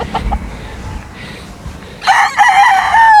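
A rooster crows loudly and close at a gamefowl farm, one long call rising after a quieter stretch of low background noise.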